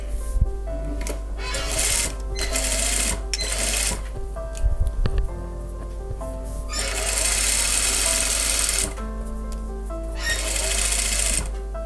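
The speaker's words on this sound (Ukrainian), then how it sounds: "Ластовицю складаємо разом з рукавом і робимо строчку." Sewing machine stitching a shirt gusset to the sleeve seam, running in several loud bursts of steady mechanical whirring separated by short pauses, close and without talk.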